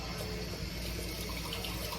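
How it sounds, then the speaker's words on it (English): A kitchen tap runs steadily while a dish is washed, a dense, even rush of water with no voices. "I'm gonna wash another dish really quick"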